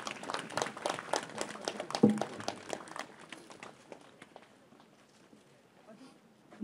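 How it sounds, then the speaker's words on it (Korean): An audience claps at the opening ceremony of a memorial hall and living museum, a burst of sharp close handclaps that thins out and fades after about three seconds, leaving quiet room noise. "다시 한번 축하의 박수 부탁드리겠습니다."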